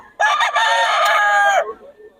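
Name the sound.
rooster crowing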